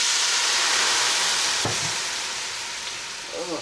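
Wine cooking off in a hot pan of chicken, a steady crackling sizzle and steamy hiss that slowly eases, with a brief clink and stirring scrape partway through.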